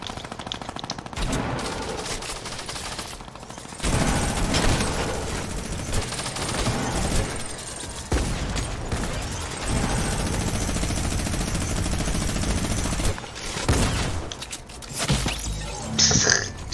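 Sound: rifle gunshots in video game Fortnite

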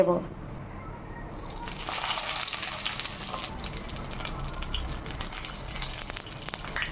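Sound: prawn paturi frying in hot mustard oil in a wok

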